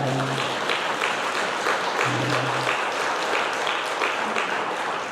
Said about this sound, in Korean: 박수 좀 쳐드려요, 장로님들한테.